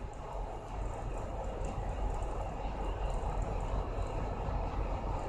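ASD tugboat engine at a dock, rising in RPM as the stern swings out with the left propeller turned sideways; a steady, loud low rumble with broadband roar, continuous throughout with no talk.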